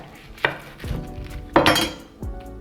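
A knife cuts a white onion in half on a board, giving three or four sharp knocks and clinks spaced out, close and clear, with no voice.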